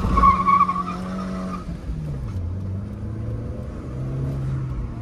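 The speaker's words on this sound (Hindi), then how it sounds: "टायर स्पिन भी काफ़ी हुआ, क्योंकि हाई टॉर्क में लॉन्च किए तो टायर तो स्किट करना करना ही है" A Hyundai Santro on Yokohama performance tyres launches hard, its engine revving and tyres squealing in a loud wheelspin that falls away into a lower, steady drone as the car pulls off.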